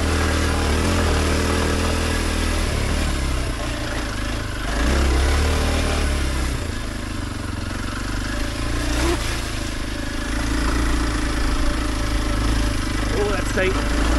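Kawasaki KLX 230 motorcycle riding and shifting gears on a tight trail, a close engine drone that dips and rises with the gear changes, wind buffeting throughout, and a rider speaking over it.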